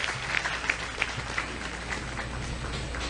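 Congregation at a church service applauding, a steady wash of clapping at moderate level with a few sharper individual claps standing out over a low background hum.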